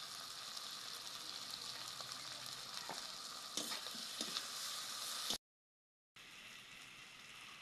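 Onions and potatoes fry in a pan with a steady, close hiss and faint crackles, then the sound drops out briefly before the sizzle resumes.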